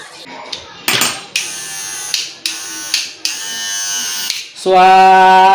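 Several short mechanical whirring bursts start and stop, then an electric hair clipper with freshly sharpened blades buzzes steadily and loudly up close.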